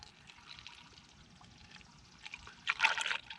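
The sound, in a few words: motor oil pouring and draining into Honda Accord engine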